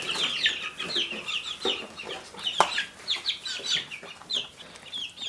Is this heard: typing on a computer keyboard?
no